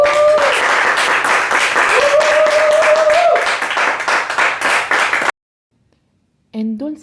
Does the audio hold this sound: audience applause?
yes